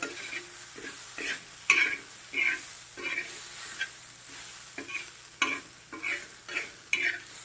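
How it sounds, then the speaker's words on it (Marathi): Thecha, a coarse chili relish, sautéed in a pan, with repeated scraping stirs in an uneven rhythm over a faint sizzle, close by and fairly quiet, with no talking. "असं दोन ते तीन मिनिट आपण चांगलं परतून घेऊया"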